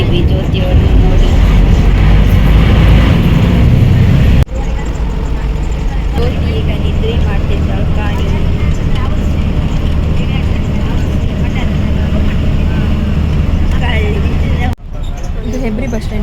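Inside a moving bus travelling between Hebri and Sringeri, a continuous low rumble of engine and road fills the cabin while a person talks over it.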